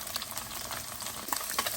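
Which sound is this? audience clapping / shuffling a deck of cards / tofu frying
tofu frying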